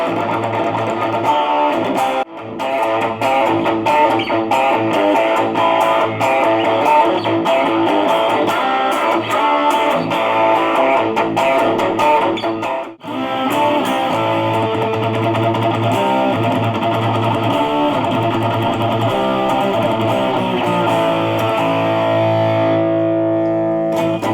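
An electric guitar plays through a small practice amp, a Marshall Code 25 or a Fender Champion 20, on a heavy metal distortion setting. Loud, thick chords and riffs run continuously with one brief break midway.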